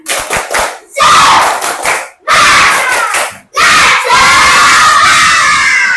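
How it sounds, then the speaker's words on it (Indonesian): A group of children shout and cheer loudly together in a classroom spirit-clap chant, with rhythmic bursts of clapping between the shouts. "tepuk semangat."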